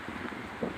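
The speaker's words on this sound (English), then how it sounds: "It's pretty windy, I know you guys, but you can see it's pretty windy." Wind gusting across a rocky section of a mountain trail at Castle Crags, a steady broadband rush buffeting the microphone with a stronger swell near the end.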